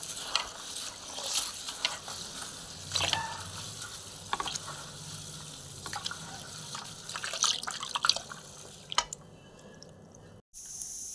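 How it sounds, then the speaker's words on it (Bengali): Rice being rinsed in water by hand, with soft sloshing, squelching and dripping. The sounds are quiet, close and uneven, with no speech, and end in a brief silence. "এরপরে চালটা ধুয়ে নিচ্ছি"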